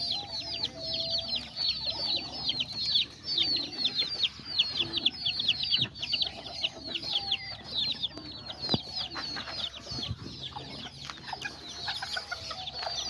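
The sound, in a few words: chickens and chicks clucking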